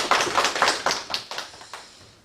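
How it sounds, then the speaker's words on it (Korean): A small church congregation at a Korean Thanksgiving service gives a short round of applause, with several distinct clap bursts that quickly thin out and fade. "축하의 박수 하실까요?"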